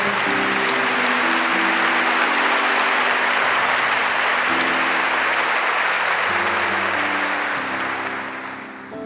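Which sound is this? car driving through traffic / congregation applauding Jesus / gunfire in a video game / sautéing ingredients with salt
congregation applauding Jesus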